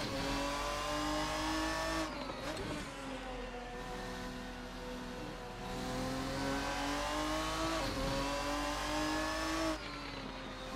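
GT1 race car in the Assetto Corsa sim at Road America, its engine droning loudly and continuously with rising revs, brief dips as gears shift around two and eight seconds, no talk.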